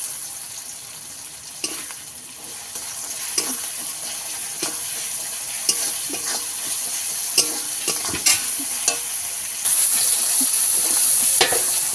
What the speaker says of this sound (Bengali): রসুনটা দিয়েও আমি 1 মিনিট মতো ভেজে নিয়েছি।